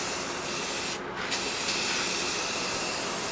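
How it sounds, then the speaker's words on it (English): Spray paint hissing steadily from a can while coating a plywood splitter black, a close, continuous aerosol hiss with one short break near the start, no voices. "We painted the black on top so far. So it's all even coats, all evenly sprayed."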